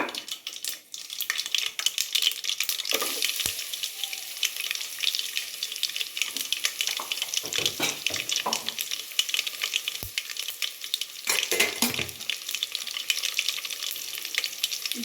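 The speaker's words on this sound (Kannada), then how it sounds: "ಇನ್ನೇನು ಸಾಸಿವೆ ಚಟ್ಪಟ್ ಅಂತಿರುವಾಗ ನಾನು ಒಂದು ಎರಡು ಬೆಳ್ಳುಳ್ಳಿನ ಕುಟ್ಟಿ ಎತ್ತಿಟ್ಕೊಂಡಿದ್ದೀನಿ ನೋಡಿ ಅದನ್ನು ಹಾಕೋಬಿಡೋಣ" Mustard seeds splutter and crackle in hot oil for an Indian-style tempering as garlic goes in, a dense steady sizzle with sharp popping bursts and a few stirring clatters, close up and without any talk.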